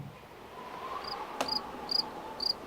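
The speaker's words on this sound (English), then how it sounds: "It's the sound of a cricket" A lone cricket chirps in short, high, bright bursts about every half second, faint and alone against a soft background hiss, added as a comic sound effect of awkward silence.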